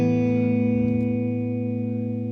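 Electric guitar through a Fuchs Overdrive Supreme HRM overdrive pedal, a single sustained distorted chord ringing out loud and clear, then slowly decaying, with a faint pick scrape partway through.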